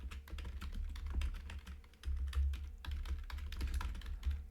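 Rapid, continuous clicking of computer keyboard keys as a short label is typed, the clicks close and uneven over a low hum.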